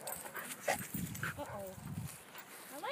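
Dogs on a pack walk whimper and give a few short yelps amid outdoor bustle, with people talking over them.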